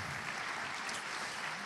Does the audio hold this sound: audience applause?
yes